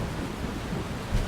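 Storm in the game Life is Strange: a soft, steady hiss of rain with a short, deep thunder thump at the very end, faint overall.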